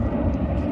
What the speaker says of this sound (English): there's an airport by here, so a lot of planes come in and out. It's really loud